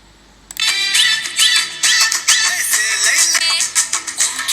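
Song playing from a repaired laptop's internal speaker, starting suddenly after a brief quiet moment, then a continuous, fairly loud, bright tinny melody with a singing voice, with no talking over it.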